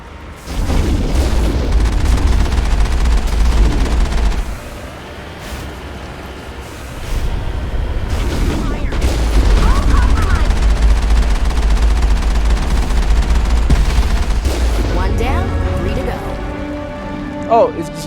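Gunfire from a Mass Effect 1 battle against geth, rendered as loud, dense sustained bursts with booming low end, easing off briefly mid-way before resuming; game music and effects layer in near the end, with a voice at moments.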